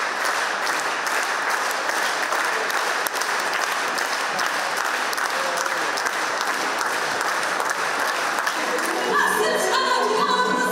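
A concert audience at a jubilee concert for a mugham artist applauds as a performer takes the stage, sustained dense clapping throughout, with a rising instrument tone near the end.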